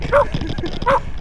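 A dog barks twice, close and loud, with a short pause between the two sharp barks.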